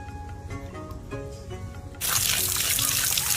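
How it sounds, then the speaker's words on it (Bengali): Shrimp being rinsed in a basket under running water, a steady broadband splash and trickle that starts abruptly partway through and continues loudly to the end, with background sounds before it. "ঝুড়িতে ভালো করে ধুয়ে নিলাম"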